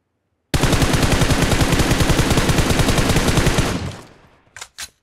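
Sustained automatic gunfire in PUBG Mobile: one long, rapid, loud burst of evenly spaced shots that lasts about three seconds and then fades. Two short, sharp sounds follow.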